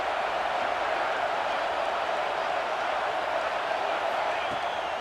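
A continuous, fairly loud crowd roar fills a stadium during a red zone play in College Football 26, an Auburn Tigers versus Florida Gators game, steady with no clear peaks.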